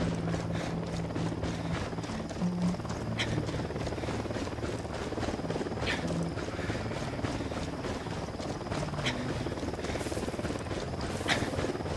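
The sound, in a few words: helicopter arriving in Ghost Recon Wildlands video game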